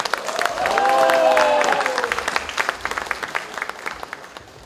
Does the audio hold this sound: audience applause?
yes